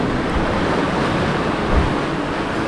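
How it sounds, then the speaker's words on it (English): Strong wind roars steadily over a sailboat heeling in a 12-knot apparent breeze, mixed with rushing water along the hull and brief louder gusts, close and loud with no talking. "All that wind's picking up."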